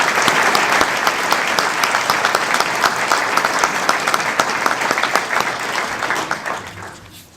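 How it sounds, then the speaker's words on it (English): An audience at an annual meeting breaks into loud, sustained applause, dense clapping from many hands that holds strong before tapering off near the end. "would you please join me in giving Natalie a round of applause for a great first year"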